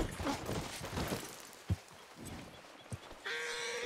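Horse in the Western game Red Dead, heard as a few scattered hoof thuds and soft clops under a noisy, busy game mix, with a brighter mechanical sound near the end.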